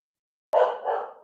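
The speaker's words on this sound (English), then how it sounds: "Somebody must be walking their dog." A dog barks outside, one loud close bark and then a second, softer bark trailing off, with no talk over it.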